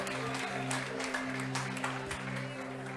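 Church congregation applauding, a steady dense wash of clapping with a sustained organ or keyboard chord held underneath, fairly loud and continuous throughout.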